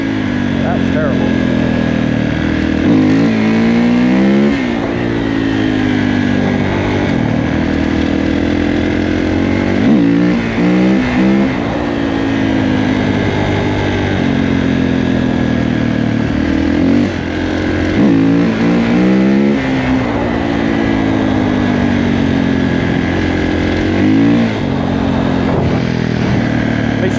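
A 2021 Kawasaki KX450 dirt bike on a trail ride, its engine droning loud and close throughout with repeated rising revs and throttle swells, under wind and occasional talk.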